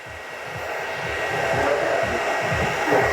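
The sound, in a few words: hair dryer on medium heat and speed drying hair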